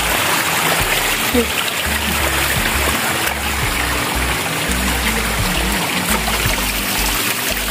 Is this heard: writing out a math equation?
no